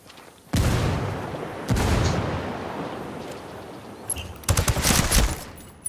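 A frag grenade blast and bursts of automatic gunfire in the tactical shooter Ghost Recon Wildlands, loud booming explosions followed by sustained rattling fire with no talk.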